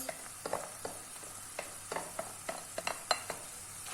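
Minced meat for Ali Nazik kebab sizzles in a pan under steady, repeated scraping and stirring taps from a utensil, close and fairly loud, with no voices.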